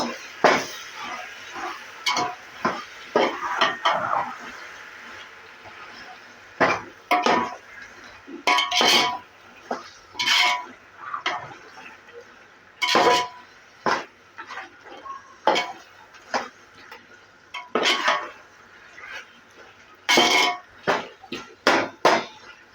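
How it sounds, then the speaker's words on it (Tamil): Yogurt stirred into sautéed tomatoes in a pot for a vegetable biryani, with repeated bright metallic clinks and scrapes of a spoon against the pot in irregular bursts and no talking. "நம்ம இப்போ இந்த ஸ்டேஜில் வந்து தயிரை ஊற்றிடலாம்."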